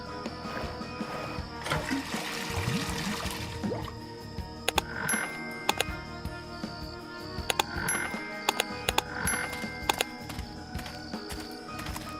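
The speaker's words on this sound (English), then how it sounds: "I'll use the bucket for what it was designed for, to be filled with water" Water pours into a bucket in the point-and-click game Dead Synchronicity, a soft liquid splash and trickle over the first few seconds, followed by faint clicks and quiet ambient tones.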